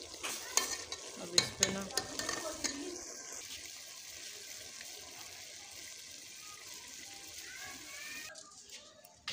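Cauliflower cooking in an unclayed pot over a wood fire, with scraping stirs and clatter early on, then a steady soft sizzle and crackle; a voice speaks briefly at the start.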